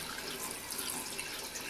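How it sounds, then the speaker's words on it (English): Tap water running steadily over a makeup brush during rinsing, a continuous close hiss of flowing water with no talk. "then I'm just going to rinse gently"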